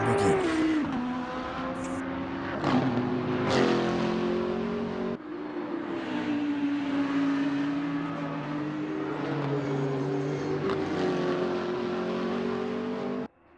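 GT3 race cars, a Lamborghini among them, roar in an Assetto Corsa endurance race at Bathurst, engines revving and shifting loudly and continuously with rising and falling pitch as they battle closely.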